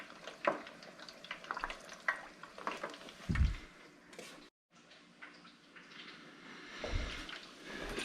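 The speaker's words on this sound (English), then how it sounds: "Just refry it." Pork belly refried in hot oil for lechon kawali, crackling and sizzling steadily at close range with scattered pops and a few stirring clatters; no one speaks.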